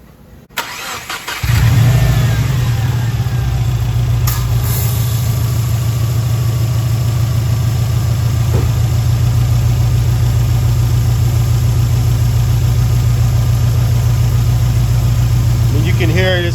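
A Subaru WRX with a JDM swapped engine cranks briefly, catches on the first turn and settles into a steady, close, loud idle that holds for the rest of the clip.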